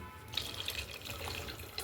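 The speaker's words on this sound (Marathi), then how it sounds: "अजून नंतर थोडं पाणी टाकलं मीने" Water poured into a cooking pot for a wheat lapsi porridge, a close, continuous tap-like gush with light splashing and no speech.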